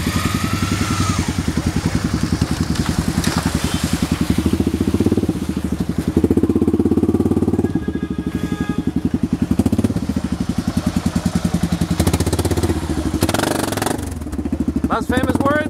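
A motorcycle engine idles and putters steadily up close on a beach in Cartagena, Colombia, a rhythmic low chugging throughout, with occasional rattles and a voice faintly in the background.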